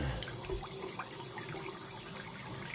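Water running into a sewer pipe during a camera inspection, with a steady trickling, splashing flow heard as continuous watery hiss and light gurgles throughout, no speech.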